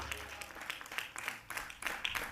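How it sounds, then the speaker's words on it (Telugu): A church congregation claps together, with dense, fast, overlapping applause and voices mixed in throughout, fairly distant and moderately loud. "చప్పట్లు కొట్టు గట్టిగా, చప్పట్లు కొట్టు గట్టిగా"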